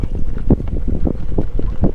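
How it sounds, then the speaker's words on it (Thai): Strong wind buffets the microphone at a fishing spot by the water, a steady rough roar with repeated gusty surges and no talking. "ลมก็เริ่มจะแรงอีกแล้ว"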